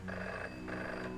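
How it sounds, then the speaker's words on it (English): A telephone rings twice in quick succession inside the horror game Ghost Dance, each electronic trill bright and steady, set slightly off to one side with no voices over it. "it sounded like the phone was to the right rather than in front of me"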